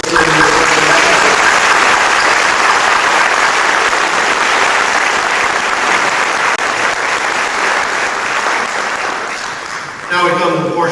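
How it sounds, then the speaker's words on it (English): Applause rises from the audience at a chamber of commerce annual dinner: loud, dense clapping fills most of the span, fades toward the end, and then a voice begins speaking. "How about another round of applause for Chris Lynn?"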